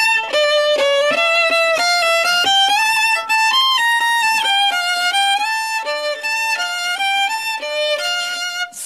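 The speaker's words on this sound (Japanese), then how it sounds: "バイオリンでもちょっと弾けますと" A violin plays the bright, sustained melody of a pop song with clear pitch changes, rich in overtones, loud and close, with no talking.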